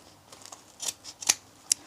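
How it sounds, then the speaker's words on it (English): Scissors snip at a Poundland Halloween loot bag during a craft project: several sharp, close cuts and clicks spaced irregularly over a quiet background, with no voices. "So just grabbing my scissors,"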